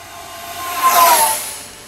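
X-Fly F-15 Eagle twin 40mm EDF RC jet in a full-throttle dive, a brief rushing whine that swells to a peak as it passes and then fades away.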